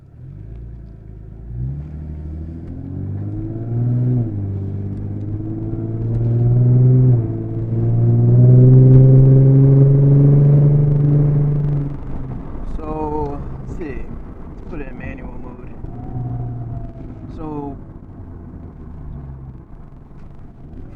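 A 2017 Lexus IS 350 pulls away from a standstill, its engine rising in pitch as it accelerates, then settling into a lower rumble while a person talks over it.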